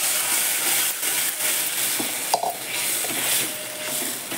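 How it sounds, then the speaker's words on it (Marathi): Lentils and peanuts sauté in a pan with turmeric, giving a steady close sizzle and hiss broken by a few scraping stirs and light clinks. "हे बघा आता चांगली डाळदाणे हे चांगले परतले की भाजी घालते."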